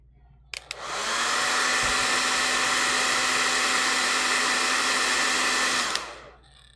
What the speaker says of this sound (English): So not only was the balloon pulled towards the vacuum hose, it was also pulled towards the hairdryer.